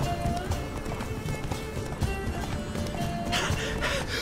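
Horse in The Witcher 3 video game galloping with a steady hoof clatter under layered game music and ambience, a brief whinny possible, moderately loud throughout.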